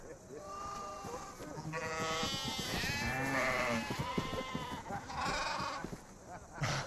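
Sheep bleating in a Christmas nativity drama, several wavering bleats up close, mixed with people talking over and around them.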